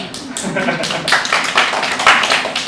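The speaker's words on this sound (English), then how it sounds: "big round of applause for Anna" A workshop audience applauds for a team member at a Smart Air clean air event, a dense, steady wash of clapping from many hands that holds for the whole stretch, with a voice briefly heard near the start.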